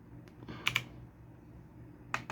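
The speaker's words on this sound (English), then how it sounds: "I'm just testing the keys as well if I press it." Keys on an AULA F2088B typewriter-style mechanical keyboard are pressed one at a time, giving crisp, close clacks in two quick pairs separated by a pause, against a quiet background.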